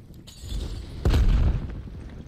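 A frag grenade in the Call of Duty Cold War shooter goes off in one deep, booming blast about midway, rumbling low for half a second after a quieter lead-in of game noise.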